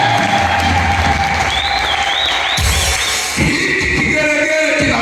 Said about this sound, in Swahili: Kama unanielewa piga makofi.